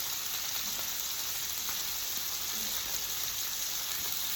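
A salmon fillet fries in hot oil in a pan, giving a steady, even sizzle and crackle that runs unbroken and close throughout, with no talking over it.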